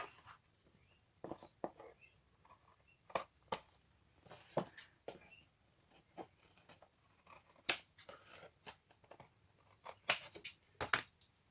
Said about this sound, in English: You have to cut off the excess again.